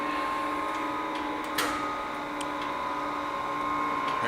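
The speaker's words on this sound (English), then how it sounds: "Go ahead and start the machine for you. Start the pump." A Blanchard model 18-36 rotary surface grinder with a vertical spindle starts up along with its coolant pump, giving a steady loud mechanical drone with a constant hum and a single sharp click partway through.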